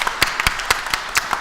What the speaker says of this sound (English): Can we give Shara a round of applause